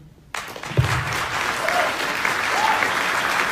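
Applause breaks out suddenly from an audience at a district attorney candidates forum, loud dense clapping that builds and holds steady after a quiet start, with a brief voice heard within it.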